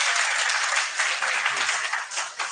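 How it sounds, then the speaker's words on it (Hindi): A classroom of students claps hands together in a sustained burst of dense, even applause, loud and close, with no pauses and no talk over it. "एक बार ताली बजा दो"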